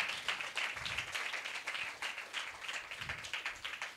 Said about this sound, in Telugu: just give big claps to Jesus Christ